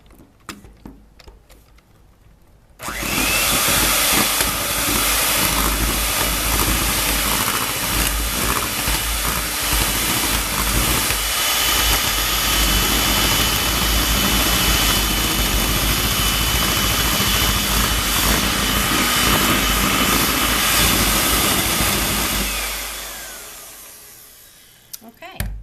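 An electric hand mixer beats cream cheese with egg yolks until smooth. It starts abruptly with a loud, steady whirring that holds for about twenty seconds, then winds down and stops. A voice speaks briefly before and after.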